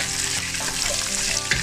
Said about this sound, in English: naluluto na siya sa kanyang sariling mantika